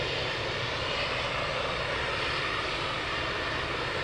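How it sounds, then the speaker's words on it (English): Engines of two Eurofighter Typhoon jets run at RAF Valley, a steady, dense roar of jet noise holding at an even level throughout with no voices. "So it looks like 2 Typhoons are getting ready."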